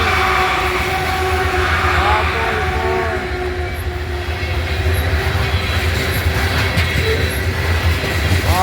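A BNSF coal train passes close and loud in Abbeville, South Carolina, with a heavy continuous rumble, wheel clatter and squealing flanges, and some faint high chirps above the roar.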